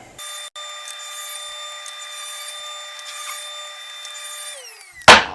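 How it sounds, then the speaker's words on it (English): A table saw runs steadily, its blade set against the fence to rip walnut pieces to width; a continuous whine holds for several seconds, then spins down before a sharp clatter at the end. "just set it right in between the fence and our saw blade and get our walnut pieces cut to that width"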